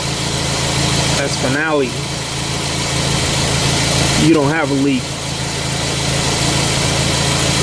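A Toyota engine idles steadily up close, a constant low mechanical hum with someone talking briefly over it twice.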